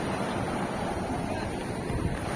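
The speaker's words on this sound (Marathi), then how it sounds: "हा बघा फालक्यामधून पाणी कसा बाहेर येतो बघा" River water pours out through the gate of a weir on the Savitri river, a steady, close, broadband rush of flowing water with some wind buffeting the microphone.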